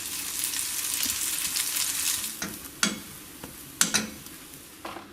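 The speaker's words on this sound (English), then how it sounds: "heat it up, put some oil or butter down, put the batter straight in." Pancake batter sizzles steadily in a hot, oiled or buttered pan, with a few soft scraping knocks of a utensil toward the end.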